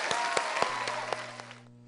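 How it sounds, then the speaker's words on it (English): Audience applause after a tribute to the speaker's mother, a broadband wash of clapping with a few sharp peaks, fading over about two seconds as a low steady hum appears underneath. "So let's give my mom a huge round of applause."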